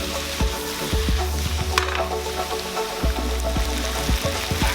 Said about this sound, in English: And then saute it, give it a nice mix.